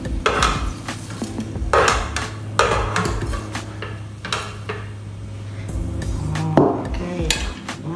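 Metal utensils scrape and clank against a pan and plate as cooked pork adobo is moved across, close and loud, with repeated sharp knocks and scraping strokes and no talking.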